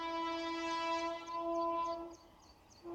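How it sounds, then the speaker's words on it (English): A train sounds a sustained, steady horn blast of about two seconds at moderate distance, drops away, then starts another horn note, with faint rumble beneath and no talk. "That's a tooting train."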